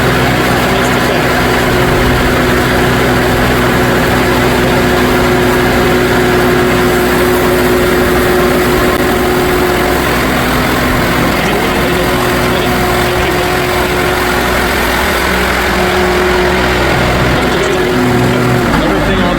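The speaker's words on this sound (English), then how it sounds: "Everything on the Sawmill is nice and quiet. There's no bearing noise, there's no belt flap noise." A Timberking sawmill runs at a loud, steady drone, its engine humming continuously with a sustained low tone throughout.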